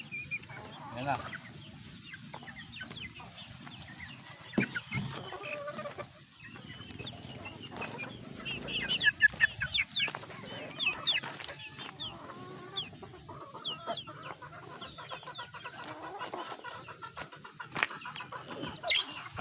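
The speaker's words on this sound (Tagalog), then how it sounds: "Tapos na tayo magpakain sa ating mga alagang manok." Backyard pet chickens at afternoon feeding time cluck and chatter in a busy, overlapping flock, fairly close but moderately quiet, with scattered clattering sounds and occasional talk mixed in.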